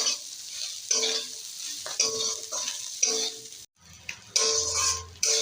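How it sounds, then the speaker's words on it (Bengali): Fried fish being stirred in a pan with onion, garlic and red-fried chili, with a steady sizzle broken by repeated scraping strokes of the spatula, close and fairly loud, with no talking. "এবার মাছগুলো দিয়ে দেবো, ভাজা মাছগুলো দিয়ে হালকা নেড়ে নেবো।"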